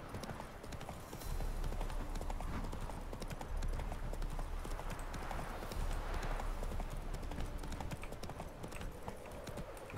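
Horse hooves clip-clopping steadily throughout, the mount Roach in The Witcher 3: Hearts of Stone video game, a continuous rhythmic trot over constant ambient game background.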